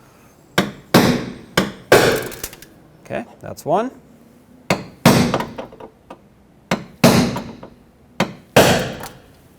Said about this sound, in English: take a punch, put it right onto the center, and whack it with a hammer.